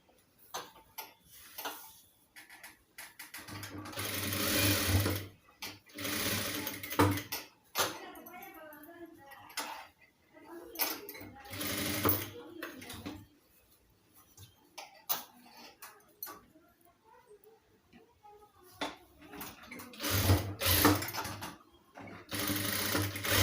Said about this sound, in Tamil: இல்லை இதுக்கு மேலே ஒரு ஸ்டிச் போடுறதுனாலும் போட்டுக்கலாம்.